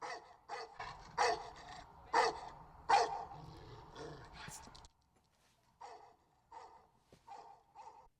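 A dog barks several times in loud, spaced bursts nearby, then quieter barks follow after a brief pause while people talk.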